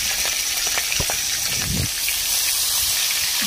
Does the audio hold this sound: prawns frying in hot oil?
yes